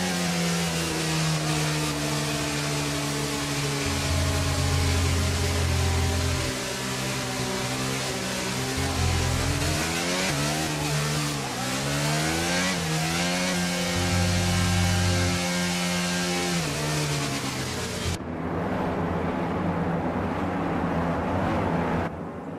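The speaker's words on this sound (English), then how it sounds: "As the cars come back towards the grid to line up for the start of the race" Steady droning engine tones of F1 cars rolling slowly back to the starting grid in the F1 22 racing game, pitches rising and falling gently as they drive, continuous and even, ending in a muted hum.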